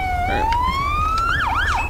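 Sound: police siren in GTA V LSPDFR video game

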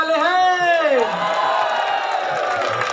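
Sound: crowd clapping and cheering at race start

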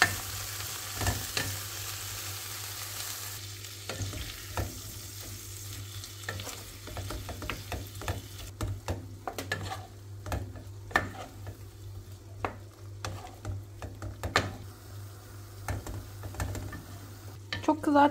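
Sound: meat frying in butter with salt

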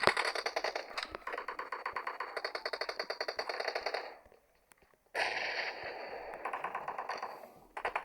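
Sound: gunfire in PUBG video game

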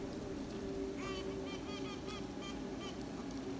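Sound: honeybee queen making sounds

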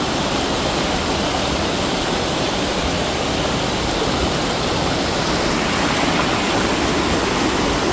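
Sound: Bushi waterfall and river

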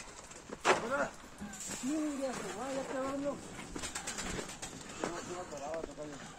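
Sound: racing pigeons released and flying

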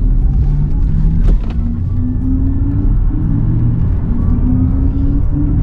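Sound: Audi RS e-tron GT electric car driving sideways

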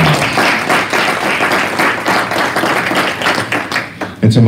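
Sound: audience applause at keynote

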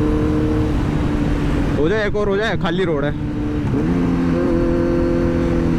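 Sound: Kawasaki Z900 superbike accelerating in first gear

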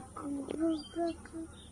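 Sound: child imitating cuckoo call

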